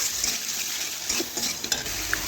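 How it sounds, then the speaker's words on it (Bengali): A utensil stirs potatoes cooking with spices in a pan for a katla fish curry with aubergine, soft scraping and gentle sizzling, close up with occasional light clinks of metal against the pan. "আমি আলুগুলো মশলা দিয়ে রান্না করে নিচ্ছি"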